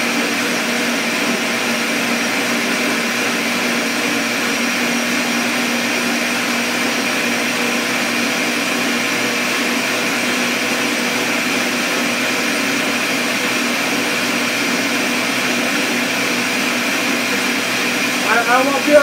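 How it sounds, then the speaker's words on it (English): A kitchen blender whirs steadily while blending a smoothie, a continuous loud motor drone with no pauses that runs the whole time, faint voices underneath and a brief rise at the end. "Let's see if it's blending up."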